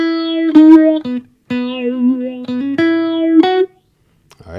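A solo electric guitar plays a short lick of sustained, slightly gritty notes with quick hammered transitions, pausing briefly before fading into near silence.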